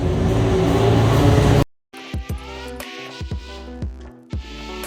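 A Glickenhaus 708 race car at the 24 Hours of Le Mans 2021, loud engine noise that cuts out abruptly, then returns as a lighter revving drone with sharp repeated bursts and pitch sweeps of passing or shifting cars.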